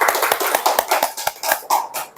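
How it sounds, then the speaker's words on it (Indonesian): A small classroom group gives brief scattered applause indoors, with irregular close hand claps over about two seconds. "Tepuk tangan dulu."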